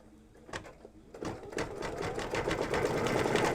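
An embroidery machine stitches an in-the-hoop mug rug, its needle chattering in a fast, steady rhythm that starts lighter and settles into a continuous whirring drone with no voices.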